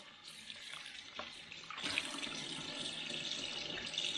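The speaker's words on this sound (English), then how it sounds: "Rinsing the LatteGo outer compartment." Water runs from a tap while a Philips LatteGo coffee machine part is rinsed under it, making a quiet hissing stream whose splashing brightens and grows fuller partway through.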